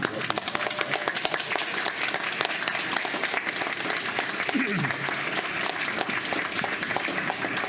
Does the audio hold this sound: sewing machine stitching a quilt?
no